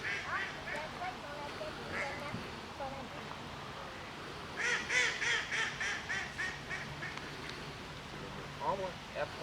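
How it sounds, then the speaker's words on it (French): Ducks quack in a series of nasal calls, moderately near, over a steady outdoor background with people talking at times. "Un canard."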